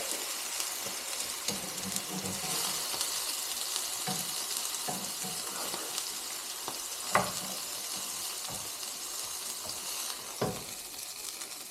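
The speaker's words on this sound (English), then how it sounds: "Now we're going to sear her up real quick." Tri-tip beef sears on a hot stove with a steady, even sizzle, broken now and then by faint taps and one or two sharper clicks.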